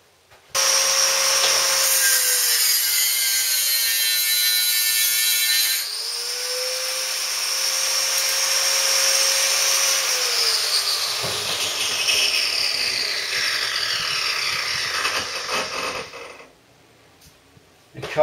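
A power tool in a home garage workshop cuts a piece to length, running steadily with a high whining, grinding tone that shifts pitch partway through before winding down and stopping.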